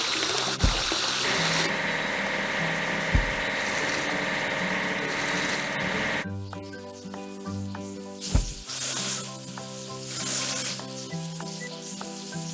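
Cartoon water sprays in a continuous hissing rush over a train's dining car being washed, with a low mechanical hum and a few thumps, the spray cutting out midway before resuming over a lighter musical backing.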